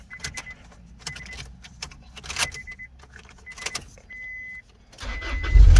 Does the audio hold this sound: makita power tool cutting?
no